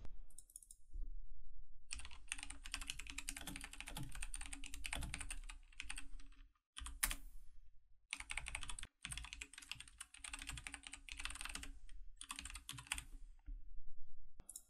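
Keyboard typing on a computer while laying out a poster design, bursts of quick clicky keystrokes separated by short pauses, close and fairly quiet, no talking.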